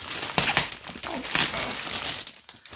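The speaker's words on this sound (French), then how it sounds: "Désolée pour le bruit, ça va pas être hyper agréable, mais j'ai pas le choix, il y a du plastique partout." Plastic packaging being crinkled and unwrapped during an unboxing, close, loud, irregular rustling and crackling bursts with brief pauses.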